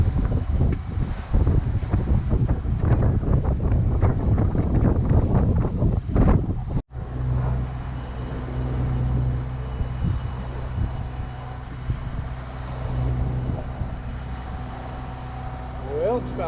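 Sailboat motoring on Lake Michigan in strong wind: a steady low engine drone under heavy, gusting wind buffeting the microphone, with water rushing past the hull throughout.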